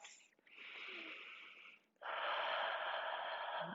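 Two deep, slow breaths during a yoga session, heard close and breathy, a long airy exhale followed by an even fuller one, with no talking.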